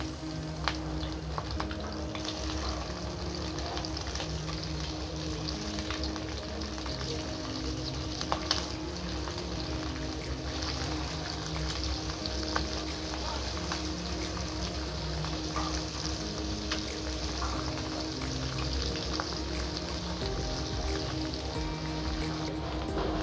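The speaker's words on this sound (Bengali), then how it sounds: "এভাবে করে মিডিয়াম আঁচে আমি ডিমগুলো ভেজে নেব।" Eggs frying in oil over medium heat for egg Manchurian, a continuous even hiss and sizzle with scattered tiny pops, steady and close throughout with no talking.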